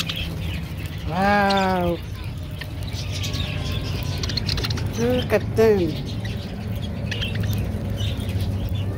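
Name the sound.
parakeets chirping at a petting zoo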